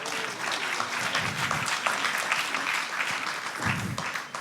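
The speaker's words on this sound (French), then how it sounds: "Alors vous pouvez applaudir s'il vous plaît." Audience applause at the opening of a conference, a dense, continuous burst of many hands clapping, fairly distant and unbroken, with no voices on top.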